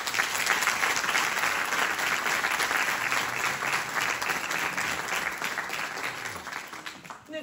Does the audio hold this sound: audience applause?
yes